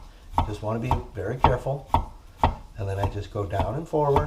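A knife chops garlic on a cutting board in a home kitchen, a series of sharp taps at an irregular pace under steady talking from a nearby cook.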